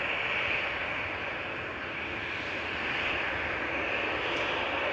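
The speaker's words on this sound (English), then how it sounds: "A380 touchdown" An Airbus A380 jet airliner touching down at Manchester Airport, heard as a steady broadband roar of engines and rushing air, loud and continuous throughout with no talking.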